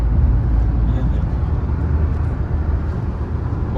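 An SUV driving and accelerating, a steady low engine and road rumble heard from inside the cabin, continuous and fairly loud with no distinct gear changes.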